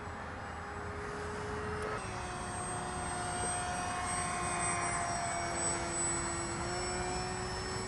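A remote-control foam F-18 prototype model jet flies slowly overhead with a steady, thin, whining electric-fan drone that holds a sustained pitch, shifts slightly and continues throughout with no one talking.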